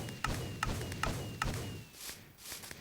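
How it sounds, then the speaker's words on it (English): Fireworks launched by redstone-clock-driven dispensers in Minecraft, a video game: four evenly spaced thumping launches followed by softer crackling bursts. "And now I get some fireworks up there."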